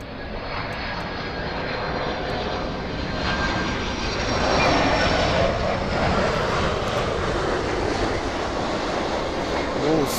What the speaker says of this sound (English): This 767 coming in from JFK